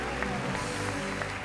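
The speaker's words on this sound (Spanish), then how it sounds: "El aplauso y las felicitaciones para él" Audience applauding an award winner at the Premio Abanderados 2012 gala, a dense, steady wash of clapping that runs throughout without breaks and sounds fairly close and full.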